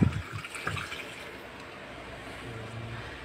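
Water dripping and trickling from a washing machine drain hose, a few small splashes and gurgles at the start that fade to a faint, quiet trickle, with no talk.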